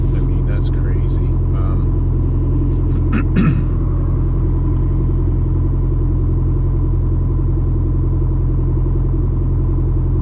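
Detroit 4-53TIB turbocharged diesel idling while warming up after a cold start, a deep, steady rumbling throb close by, with a few brief clicks and knocks early on.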